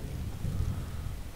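Deep rumbling thunder from a lightning attractor in a video game, a low, steady roll that fills the whole short stretch with no voices over it.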